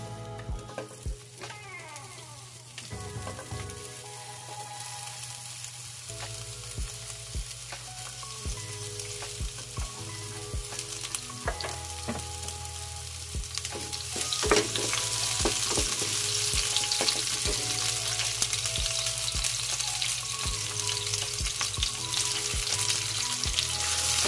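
Onions sautéing in a pan for a tomato-braised red snapper head, a continuous sizzle building louder over time, punctuated by scattered utensil clinks and scraping, close up with no speech; a cat may be faintly heard.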